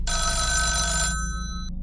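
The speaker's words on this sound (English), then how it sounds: "my phone began to ring again" A telephone rings once in a bright, sustained electronic trill for about a second, then cuts off and leaves a low steady hum with a faint click.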